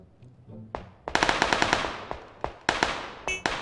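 Gunfire in a motorway police chase scene from a PUBG-style game: a rapid burst of sharp shots, then a few separate cracks, close and loud with no talking.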